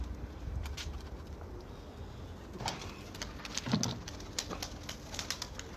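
Soft cooing of domestic tumbler pigeons being flown, with occasional wing flutters over an outdoor ambience, the calls faint and intermittent.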